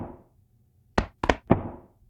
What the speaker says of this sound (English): The next sound is just me hammering on my chest,